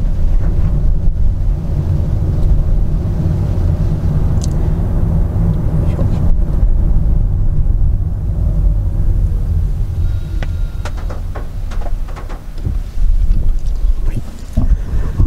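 A 2024-model Toyota Esquire ZWR80 hybrid minivan drives on the road with its engine working when EV mode cuts out. A steady low drone of engine and road noise mixes with wind buffeting, and a voice speaks in places.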